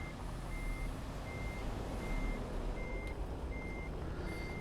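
Repeated reversing beeps from a truck backing up in a truck-driving game, steady evenly spaced tones over a constant low engine rumble.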